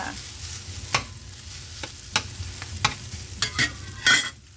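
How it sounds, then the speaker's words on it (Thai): Rice is stir-fried with chilies, carrot and a splash of light soy sauce for egg fried rice, with a steady sizzle broken by sharp, rhythmic spatula scrapes against the pan. "แล้วก็เติมด้วย ข้าว อ่าซีอิ๊วขาวนิดนึง ผัดคลุกเขา"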